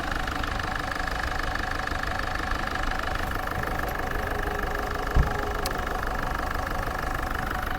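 A car engine idles steadily at close range, a continuous low rumble with a faint rhythmic knock and one brief thump partway through.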